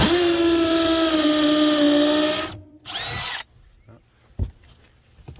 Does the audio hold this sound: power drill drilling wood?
yes